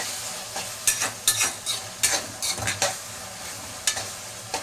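Tomato and onion sautéing for a chicken gravy, a busy close sizzle punctuated by repeated quick scrapes and clinks of a spoon stirring the pan, with no one talking.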